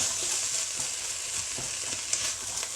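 Onion and pepper fry in a pan with a steady hiss, with a few soft stirring clicks in the background.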